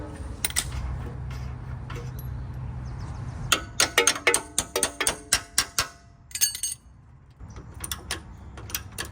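Ratchet wrench tightening suspension bolts under an old 2000s Chevy Tahoe, a quick series of sharp metallic clicks in bursts after a low rumble, close and fairly faint.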